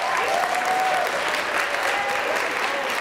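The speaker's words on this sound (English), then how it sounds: "Let's have one more round of applause for Mr." Audience applause at a high school winter concert, a steady, loud wash of many hands clapping throughout, with a faint voice briefly audible beneath it.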